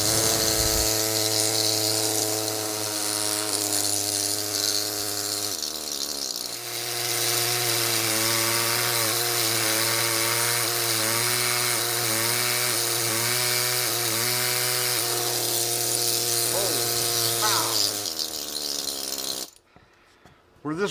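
A small, high-pitched whining power tool grinds hard rock off a small crab concretion. It is loud and close, runs almost continuously with a brief dip partway through, and cuts out near the end.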